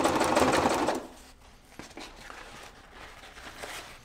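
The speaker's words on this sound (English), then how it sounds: "we're gonna stitch 3 inches or so." A sewing machine stitches a short seam on a front label pocket, a fast rattling run in the opening second that then slows to a few scattered stitches and clicks, close and fairly quiet.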